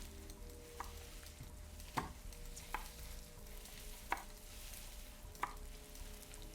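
Quiet, evenly spaced chopping thuds in a video game, about five over several seconds, over a faint continuous background hiss with no talking.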